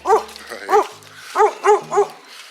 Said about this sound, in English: Still alive, even after almost attacked by a female protecting her puppies.